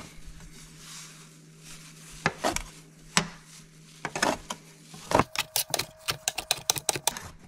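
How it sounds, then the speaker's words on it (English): Purple dead nettle being chopped on a board for a tincture, a few sparse knife strikes at first, then a quick run of crisp, close chops alone with no talk. "we're just going to chop it up a little bit."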